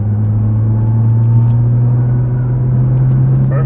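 A Nissan GT-R on a race track at Exotics Racing Las Vegas drones through a corner, its engine a loud, steady low rumble heard from inside the car, with no voices.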